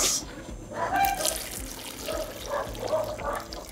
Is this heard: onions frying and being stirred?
no